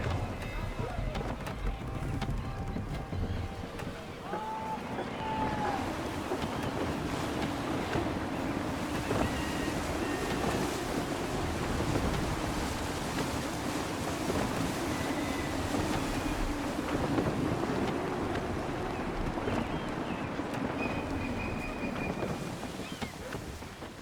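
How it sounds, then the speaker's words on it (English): Gusty wind at sea in Assassin's Creed III, blowing in a steady broadband rush with surf and wave wash under a sailing ship, while a voice talks over it for much of the stretch. "Gusty winds can be difficult to manage."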